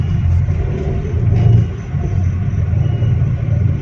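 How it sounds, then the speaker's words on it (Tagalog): A Hyundai Accent with a transmission fault, driving with its muffler vibrating: a loud, steady low engine rumble with a slight rise in intensity midway, continuous throughout. "Vibration din sa muffler."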